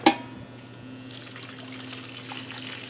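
Boiling water poured into a mix of sugars and spices for baked beans with apples, starting with a sharp splash and then a steady soft trickle and stirring.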